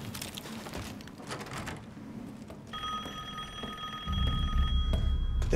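A rotary telephone rings in the horror video game Resident Evil Village, a steady bell tone starting partway through over a low, rumbling background that swells louder near the end.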